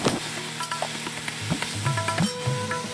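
Fried taro pieces are stirred in a tempering of oil in a pan, giving a loud ongoing sizzle broken by repeated spatula scrapes and knocks against the pan, with no voices.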